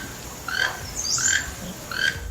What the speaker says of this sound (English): it sounds like a strange mixture of a cackle and the croaking of a frog with a cold.